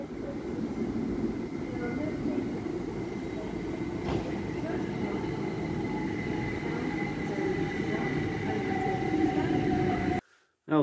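Trains at Reading Station rumble past continuously with steady wheel and engine noise, a faint squeal above, loud and close throughout, cutting off abruptly near the end.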